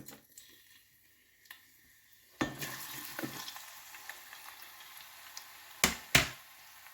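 Quiet stirring at first, then a burst of sizzling as a chopped medium onion hits hot oil, followed by steady frying and a couple of sharp clatters.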